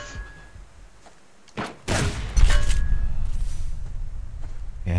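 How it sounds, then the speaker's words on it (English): Video game gunfire comes from an enemy shooting out of a base, heard as a few sharp shots followed by a sustained rumbling burst. "now we got the guy in the base shooting too"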